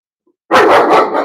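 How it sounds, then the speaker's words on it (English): A single loud, close German Shepherd bark, sudden after near silence, trailing off briefly. "he's not allowed to excessively bark like that"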